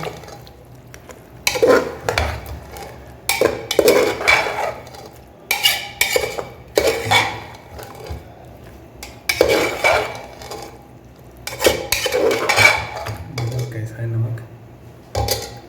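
Potato brinjal gravy stirred in a metal pan, repeated bursts of clanking and scraping from the spoon against the pan with brief pauses between, loud and close.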